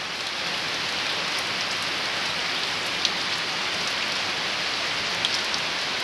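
Steady rain pours down continuously, a dense even hiss with occasional louder drops landing nearby; a parrot is out bathing in it; no voices.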